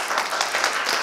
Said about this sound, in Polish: gorące brawa tym młodym wykonawcom